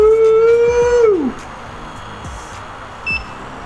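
A Ricoma 1501-TC single-head embroidery machine powers on with a loud tonal whine that slides downward and fades, followed by a quiet stretch and one short, high electronic beep.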